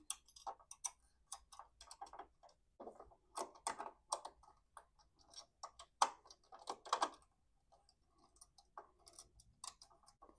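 Small screws being set back into the needle plate of a Brother LX 2375 sewing machine, giving a quiet, irregular series of close metallic ticks and clicks with brief pauses between them and no voices.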